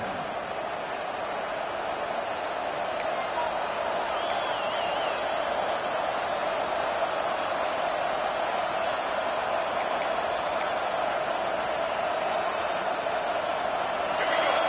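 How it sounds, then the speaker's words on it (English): A steady, dense roar from a huge stadium crowd at an Alabama football game fills the whole stretch, sustained and loud with no breaks. "Listen to this crowd just shaking the girders of this place"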